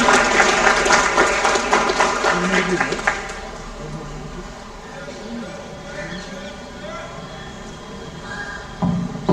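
Applause from a Republic Day school gathering for a Fit India School certificate, a burst of clapping that fades after a few seconds, giving way to a voice talking over a quieter room.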